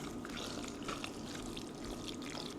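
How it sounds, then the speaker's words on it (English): Macaroni and cheese sauce being stirred together for a baked mac and cheese, giving a steady wet, sloshing churn that stays close and continuous with no talking. "Now giving this a good stir to make sure that the macaroni and the cheese sauce are all mixed up together."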